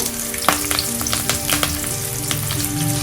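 Onion and curry leaves frying in oil for Andhra-style pappu charu, a dense continuous close sizzle with light stirring crackles.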